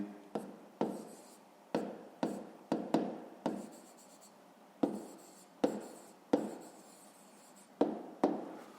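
A pen scratches out a fifth-grade maths exercise by hand. It makes a series of short strokes and taps in an uneven rhythm, close and quiet, with no talking.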